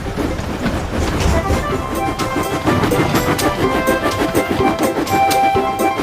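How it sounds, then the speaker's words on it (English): A Tomy Trackmaster toy train engine runs along its track with a steady rattling, clicking mechanical clatter, loud and close throughout. "Then the gate opened, and Thomas puffed quickly away."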